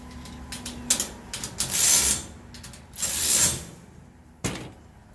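A ratchet wrench tightens bolts on a mower swing arm from a Mow and Go Systems setup, giving quick bursts of close, dry clicking separated by short pauses, with no one talking.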